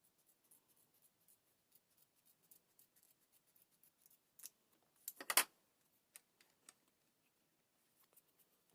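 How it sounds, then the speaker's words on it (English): Foam and neoprene are cut to size for an off-road RC tipper truck, heard as sparse quiet snips and clicks with a brief louder cluster of cutting sounds midway, close and without talk. "Need to kind of cut it down to size"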